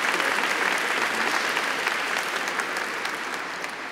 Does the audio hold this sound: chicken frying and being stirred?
no